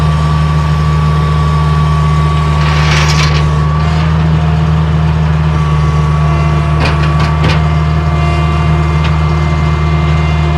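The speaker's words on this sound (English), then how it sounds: "A lot of weight for this old 743 skid steer." An old Bobcat 743 skid steer's engine drones loud and steady under heavy load, a constant close rumble with a whine held above it throughout.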